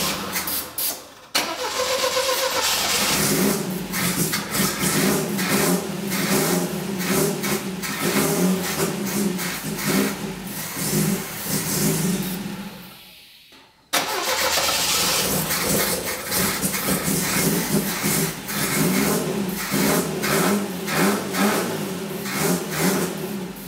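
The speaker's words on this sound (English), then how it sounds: "we're gonna start this up for you right now on starting fluid" A Saab Sonett engine cranking and firing up on starting fluid after sitting, running loud and rough close by, briefly dropping out near the middle before catching again and running on unevenly.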